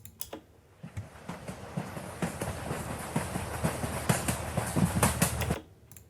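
A traditional train sound effect builds from sparse clicks into a dense, rhythmic clickety-clack of wheels over rails, growing louder before cutting off abruptly near the end.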